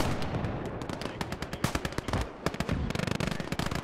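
Video game gunfire in Call to Arms, Last Grenadier 1946: loud, dense bursts of rapid automatic shots and single cracks, close and continuous, rising into quick-fire rattling at the end.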